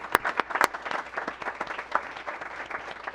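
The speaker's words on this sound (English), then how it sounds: "I'd like to have a little round of applause for these folks for coming in and singing" A small group at a county board of education meeting gives a light round of applause for singers, with scattered individual claps standing out sharply at the start before settling into a thinner patter.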